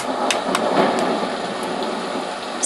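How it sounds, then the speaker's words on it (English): Homedics Sound Spa Rejuvenate white noise machine plays steady rain hiss with several soft, distant thunder cracks, even and continuous, with no voices. "That's the thunder"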